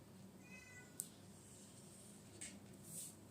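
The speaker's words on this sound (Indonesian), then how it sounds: "Itu kucing aku di luar yang miau-miau." A cat outdoors gives a couple of faint, thin meows, heard distantly beneath steady room background during an indoor live stream, with short high cries spaced a second or two apart.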